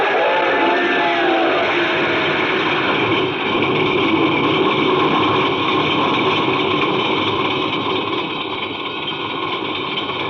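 Radio drama effect of a car engine running after starting, a loud, steady low rumble that continues unbroken throughout, with a trace of a distant train whistle at the very start.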